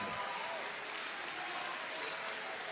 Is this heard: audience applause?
yes